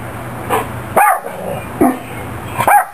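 A chihuahua barks in short, sharp, high-pitched yaps, about four barks spaced unevenly over a few seconds, close and loud indoors.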